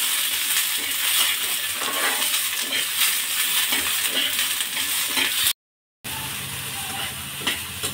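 Pigeon pea (toor) seeds dry-roasting in a pan give a loud, grainy rattling hiss as they are tossed and stirred, cutting out briefly before resuming with a few light clinks.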